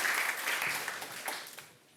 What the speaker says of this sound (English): please give them a round of applause for taking time to attend Ember Fest